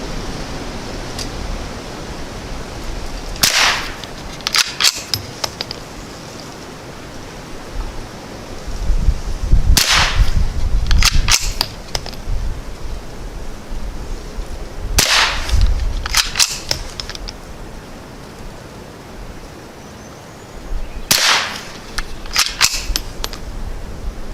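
Ruger 10/22 rifle fired outdoors at targets: sharp, loud cracks in quick clusters of two or three shots, repeated several times, with wind and rustling noise between the volleys.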